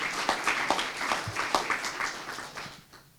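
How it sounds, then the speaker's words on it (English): A crowd at a school business partnership announcement applauds with dense, steady clapping that gradually fades toward the end. "give them a round of applause here"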